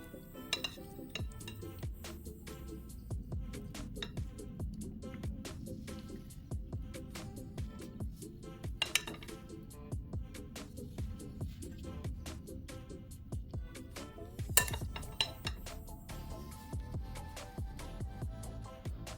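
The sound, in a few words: spoon scooping shrimp filling from a bowl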